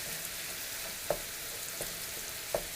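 Ground meat browning in a pan for shepherd's pie, cooked on the trail: a steady, quiet sizzle with a few soft stirring clicks.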